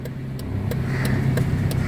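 A learner driver's car moves off as the clutch is slowly released, a steady low engine hum holding close and even throughout, with a faint rising tone.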